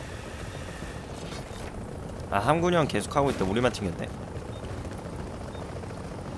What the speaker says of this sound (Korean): 아 여기 헬기 누가 불렀네